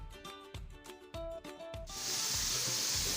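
Meat frying in a pan for a home family meal: after a stretch of clattering kitchen rhythm, a steady broad sizzle takes over and holds loud and close to the end, with no talking.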